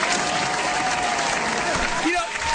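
Applause sound effect on a talk show, a steady wash of crowd clapping held at an even level throughout, with voices talking over it.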